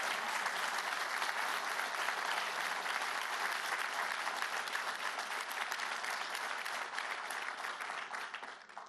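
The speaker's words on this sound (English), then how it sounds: "Can we have a big round of applause?" Sustained, dense applause from a conference audience at a chief economists' roundtable on economic growth, even and full throughout before thinning at the very end.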